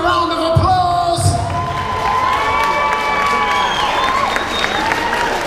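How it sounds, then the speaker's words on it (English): A boxing crowd at a fight night applauds and cheers after a bout, loud sustained clapping mixed with whoops, shouts and whistles filling the hall around the ring. "Please give them a round of applause."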